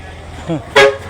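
A single short vehicle horn toot sounds out loud near a subdivision street in Davao, preceded by a brief tonal burst, with faint background noise throughout.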